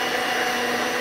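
An electric mixer whirs steadily and loudly, a continuous close motor drone as it beats the batter.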